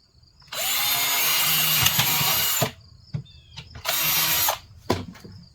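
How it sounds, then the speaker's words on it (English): A power drill whines loudly in two long bursts, roughly two seconds then one second, separated by clicks and brief quiet gaps. "I'm gonna drill a hole here."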